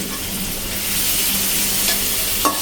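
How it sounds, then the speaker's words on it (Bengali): Ginger garlic paste sizzles and fries in a pan while being stirred, a steady close hiss with a couple of brief utensil scrapes near the end. "আদা রসুন বাটা এখন একটু দিয়ে দিব দিয়ে দিলাম এটা দিয়ে একটু লাড়াচাড়া দিতে হবে"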